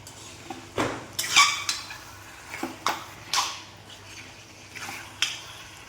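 Beef fry is stirred in a pan until it darkens, giving several sharp, separate scrapes and clinks of a utensil against the pan at irregular intervals, close by, over a quiet background sizzle with no talking.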